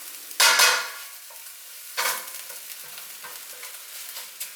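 An onion mixture sautéed in a pan: two sharp bursts of sizzling as food hits or is stirred, then a softer, steady fry with light scraping.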